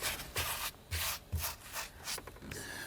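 Rubbing strokes on a rough-finish leather steering wheel from an E30 BMW M3 Sport Evolution, a handful of quick, soft, close scrubbing passes in an uneven rhythm.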